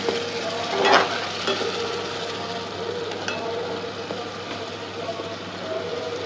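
Steady sizzling and crackling of ginger paste frying in a hot pan, with a brief stirring scrape near the start and a low hum underneath.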